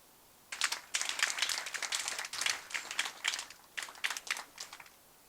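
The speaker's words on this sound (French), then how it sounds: "je voudrais que vous vous applaudissiez vous-même." A small audience at a history talk applauds itself in uneven, crackly bursts of clapping. The claps start after a brief quiet and rise and dip in loose clusters before tapering off.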